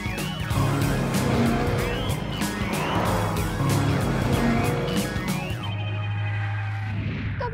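A third-generation Audi TT coupe on a test drive, a loud steady engine and road roar heard from close by, with rising and falling revs before the sound fades out near the end; no talking.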